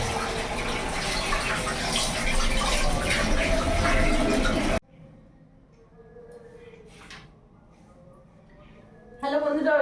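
Silver carp is washed under running water, a loud steady gush and splash for several seconds that cuts off abruptly, leaving quiet kitchen clatter before the water briefly starts again.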